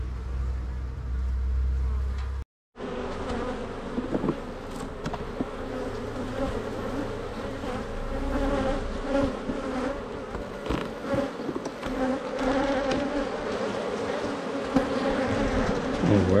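Honey bees buzz around an urban beehive in a city centre, a dense, close, continuous hum that fills the whole stretch after a brief silent gap near the start, with no talking.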